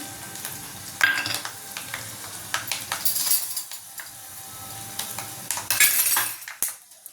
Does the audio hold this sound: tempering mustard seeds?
yes